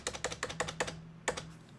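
Quick clicking keystrokes on a computer keyboard, a rapid burst of taps, a short pause, then a single key press, close and moderately quiet.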